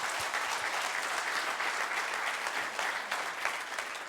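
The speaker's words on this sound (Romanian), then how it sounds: "Să-i dăm un rând de aplauze!" Audience at a OneCoin gala applauding: dense, even clapping from a large crowd fills the whole stretch, steady and fairly loud with no pauses.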